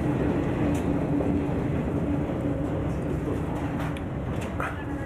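A continuous, loud rumble of a train rolling along the rails, with a steady low roar and faint rhythmic clatter throughout.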